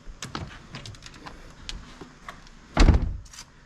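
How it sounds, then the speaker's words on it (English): Car door being closed in a garage during an LS-swapped G35 move, with scattered clicks and handling noises before a single solid thunk near the end, close by. "Close that door."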